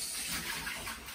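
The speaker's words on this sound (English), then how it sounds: "Let me drain the water out." Water pours and splashes continuously, a steady rushing flow as it is drained from a pot of cooking rice for Nigerian jollof, with no talking.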